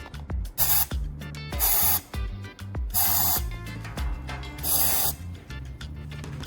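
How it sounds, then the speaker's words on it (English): WD-40 sprayed from a can into a cup to help restore headlights: several short, loud hissing bursts, about four or five, spaced a second or so apart over steady background music. "I'm going to spray about 5 to 6 times into the cup."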